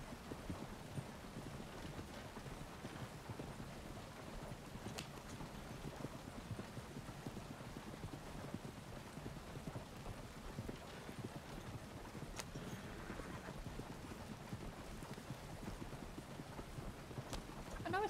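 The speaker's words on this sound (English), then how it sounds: "I know it's just two horses, but it sounds like more." Steady clip-clop of two horses' hooves pulling a small milk wagon, a dense continuous rhythm that sounds like more than two animals, with faint wheel and ambient noise and no talk.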